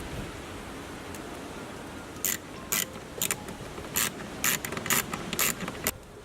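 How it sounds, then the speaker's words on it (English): A ratchet tightens bolts on a BMW E90 330i during a filter replacement. About ten short, sharp clicking bursts start a couple of seconds in and follow at an uneven pace over a steady background hiss, fairly close. "Reinstall the 5 bolts."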